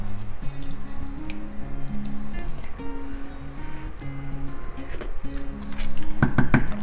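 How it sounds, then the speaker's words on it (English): Cream is stirred into a vodka pasta sauce with soft, wet squishing and light clinks of the utensil against the pan, a faint sizzle underneath and a musical backing throughout. "We're just gonna stir it."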